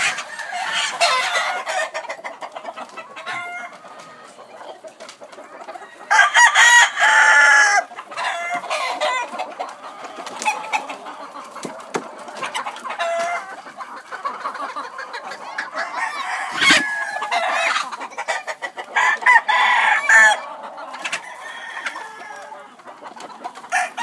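A Black Jap Asil Peru gamefowl rooster crows loudly and clucks repeatedly up close, with other fowl calling in the background and bursts of crowing breaking through a busy farmyard din.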